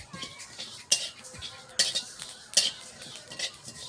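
Dry spices roasting in a pan for a homemade kul (jujube) pickle are stirred with a metal spatula, giving a few sharp scrapes and clinks against the pan over a soft, steady background rustle.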